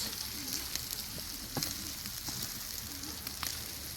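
Lamb kokoreç frying on a sac griddle over an open fire, with a steady broadband sizzle that runs the whole time and a few sharp crackles and scrapes of stirring close by.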